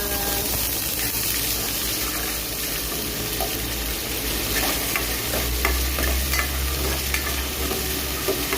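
Ginger and onion sizzling in hot oil as they are stirred around a pan, a steady loud frying hiss with scraping and occasional spatters, no one talking.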